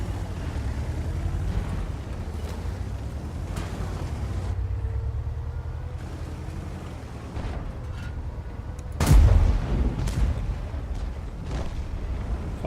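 A German Tier X heavy tank, the Panzer 7 in World of Tanks, rumbles along with a steady low engine drone, then its gun fires once in a loud, booming blast while still moving.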